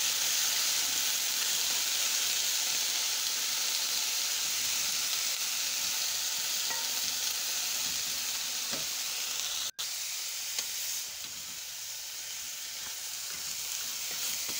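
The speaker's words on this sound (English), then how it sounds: "Now it's time to add the broccoli. Yeah. And keep on stirring" Broccoli fries in a pan with a constant, close sizzle while it is stirred, with an occasional scrape and one sharp knock partway through; nobody speaks.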